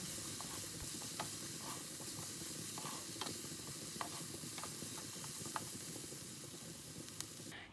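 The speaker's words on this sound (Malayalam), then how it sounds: "പൊടികളുടെയൊക്കെ ഒരു പച്ചമണം മാറുന്നത് വരെ ഇത് നല്ലതുപോലെ ഒന്ന് വഴറ്റിയെടുക്കുന്നുണ്ട്" Chili, turmeric, pepper and garam masala powders sautéing in a pan for paneer chatpata, a steady close sizzle and hiss with occasional light taps of the stirring spoon, moderately quiet and without voices.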